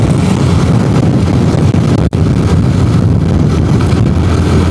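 A car moves along a winding up-and-down hill road near Karnala, a steady loud engine and road rumble heavily buffeted by wind noise, with a brief dropout partway through.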